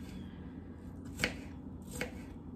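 A knife chops an onion on a cutting board with two sharp, close strikes about a second apart, heard quietly over faint room noise.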